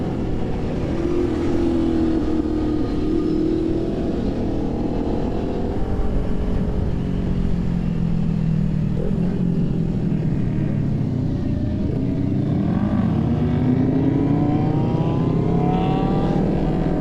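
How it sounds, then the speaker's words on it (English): A group of motorcycles rides past on Sunrise Highway, their loud engines merging into a steady close roar whose pitch swells and dips as the bikes accelerate, over constant wind rush. "too many motorcycles, too loud"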